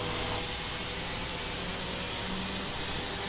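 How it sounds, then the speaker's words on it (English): A steady, loud mechanical whine and roar of an Airbus A330 auxiliary power unit running without change in a flight simulator. "Sounds like an APU."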